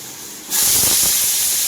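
A pressure cooker whistle: a sudden loud, steady hiss of steam bursts out and holds for over a second before cutting off sharply, close by, on low heat while cooking a mixed vegetable curry.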